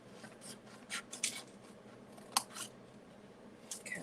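Scissors snip through card paper while an Easter card is being cut out. Several short, crisp cuts come close by, scattered irregularly over a quiet room background.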